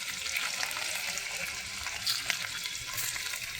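Liver pieces fry in hot oil in a pan with onion, a steady close crackling sizzle with faint stirring scrapes throughout, no voices.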